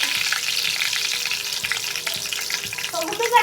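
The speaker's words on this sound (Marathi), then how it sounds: "तेल गरम करायला ठेवलेलं आहे तीन चम्मच मी तेल टाकलेलं आहे आता त्याच्यात कढीपत्ता" Curry leaves frying in three spoons of hot oil in a home kitchen, a steady loud close sizzle with a spluttering crackle, alone without talk.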